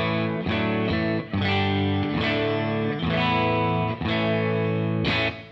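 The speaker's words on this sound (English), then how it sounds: "So clean, the amp sounds like this." Two-Rock Classic Reverb Signature guitar amp on its clean channel, ringing out a steady sequence of full, strummed chords at a moderate level with brief gaps between them, no voices.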